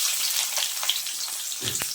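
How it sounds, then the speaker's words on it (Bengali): Chopped onions fry on a high flame in hot oil for beresta, giving a steady, dense sizzle with light crackles and a soft clatter near the end. "পেঁয়াজটা আমি হাই ফ্লেমে ভাজবো, তাহলে তাড়াতাড়ি হয়ে যাবে।"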